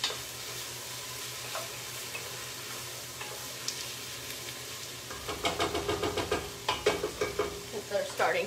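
Mushrooms sauté and brown in a pan after about ten minutes of cooking, giving a steady low sizzle that gives way to louder, rhythmic scraping and stirring strokes near the end.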